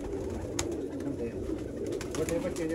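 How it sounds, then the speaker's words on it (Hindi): Rare red-eyed pigeons cooing softly in a rural loft near Sialkot, low repeated coos close by over a faint background, with a person speaking at points. "लाल आंख के नायाब कैटेगरी के कबूतर"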